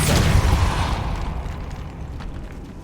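Depulso spell blast in Hogwarts Legacy: a deep booming burst at the start that rumbles and fades away over a few seconds.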